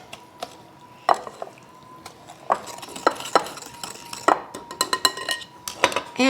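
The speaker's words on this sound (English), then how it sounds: "And now we mix these together." Wet ingredients with vanilla are stirred in a bowl for pumpkin cheesecake bread, with a string of utensil clinks and scraping knocks against the bowl, irregular and close.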